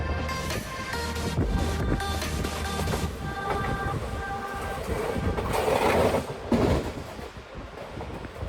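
Palaruvi Express with old ICF coaches running on rails, a steady rumble of rolling wagons with faint rhythmic clatter and wind noise throughout, louder rushes near the end.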